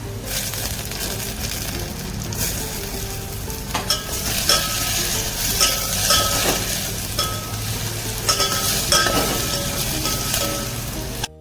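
Chopped tomatoes sizzle and fry in a hot pan for Maggi noodles, a steady crackling hiss with occasional stirring scrapes and clinks of a spoon, close and moderately loud.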